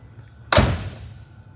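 A single solid thunk of a 1969 Camaro's car door closing, close and clean, decaying quickly into quiet.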